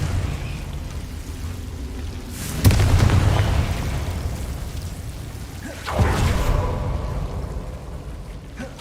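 Two separate Confringo blasting-curse explosions from the Hogwarts Legacy video game burst out a few seconds apart, each a sharp, loud boom with a rumbling tail over steady background noise.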